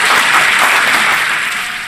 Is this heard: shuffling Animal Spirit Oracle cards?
no